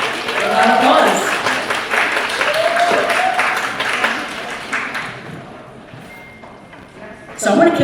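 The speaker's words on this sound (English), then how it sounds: "Please welcome Beverley Outland from Chillhouse and Ari Smith from Sweet 11. A round of applause." Audience applause welcomes two panelists at a summit panel on mindful manicures: a dense, loud patter of clapping with voices mixed in, fading after about five seconds before a brief burst near the end.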